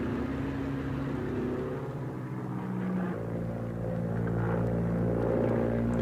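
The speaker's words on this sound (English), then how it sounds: "Another pilot brings down a damaged Helldiver, which is minus its tail hook." A damaged Helldiver propeller plane comes in to land on an aircraft carrier, its engine droning loudly and shifting in pitch midway, with a steady low roar and no voices.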